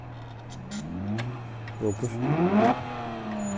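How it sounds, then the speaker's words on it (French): A Porsche 911 GT3 RS engine is started during a museum demonstration. A starter whir turns over, then the engine catches with a couple of short revs that ease back toward idle. A voice is briefly heard at the start. "On va démarrer la GT3 RS forcément."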